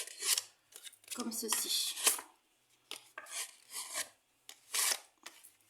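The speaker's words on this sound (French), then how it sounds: "on prend son plioir et on gondole" A bone folder is pressed and drawn across printed paper while making a card, giving repeated dry scraping and rubbing strokes in irregular bursts, close up, with a person talking between them.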